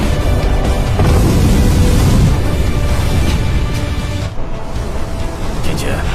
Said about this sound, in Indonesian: Ia malah menahan serangan itu dan terjadilah ledakan kekuatan yang begitu